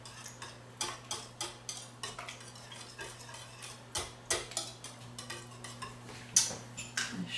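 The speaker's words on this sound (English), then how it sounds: "Now, I'm gonna mix this up real good." Ingredients mixed in a bowl for baking, a steady series of quick scraping clicks and knocks of a utensil against the bowl, close and fairly quiet with a faint hum behind.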